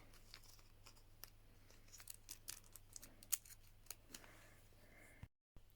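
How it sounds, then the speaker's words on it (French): Scissors snip open a small bag of pink pastel sprinkles from La Petite Épicerie: quiet, close crinkling of plastic punctuated by several crisp cuts, ending in a brief silence. "ouvrir mon sachet."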